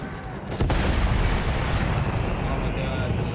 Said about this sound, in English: Oh my god, the siege cannon.